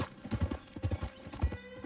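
Horse hooves clip-clop in a steady trotting rhythm in the video game Red Dead Redemption 2, close and continuous over a muffled background.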